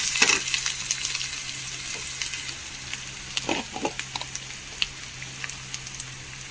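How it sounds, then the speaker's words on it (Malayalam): Onions fry in a pan with a close, even sizzle and frequent small pops and crackles over a low steady hum. "നമ്മുടെ ഉള്ളിയൊക്കെ ഒരുവിധം മൂത്ത് വരുന്നുണ്ട്"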